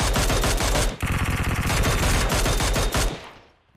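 Dense automatic gunfire from the mobile battle-royale game PUBG Mobile: loud, rapid bursts of shots run nearly unbroken for about three seconds, then tail off into quiet.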